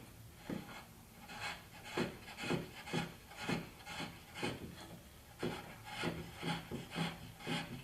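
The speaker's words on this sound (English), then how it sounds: "After the trimming by chisel" A chisel paring across an avodire wood bench, a steady run of close rasping strokes in a regular rhythm, each a short dry scrape.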